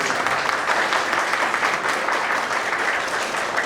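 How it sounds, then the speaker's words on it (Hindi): Loud, sustained applause from an audience at a village service society's New Year gathering, steady clapping filling the clip without pause and no talk over it. "एक बार और आप लोग जोरदार ताली दें"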